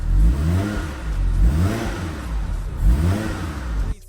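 Toyota Soarer JZZ30 with a dusty, worn-out old exhaust, its engine revving up and down in repeated surges close by, a throaty rise and fall about three times before cutting off abruptly at the end.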